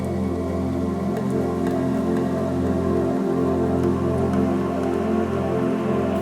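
Rain patters steadily on a tent through the night on a high-altitude mountain hike, a dense, even drumming of drops with occasional louder plops, close and continuous over a low background hum.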